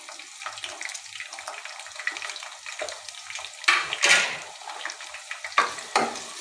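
Onions frying in plenty of hot cooking oil for Lahori chikar cholay, a continuous hiss with louder crackling bursts and stirring swishes toward the end, close by and with no talk.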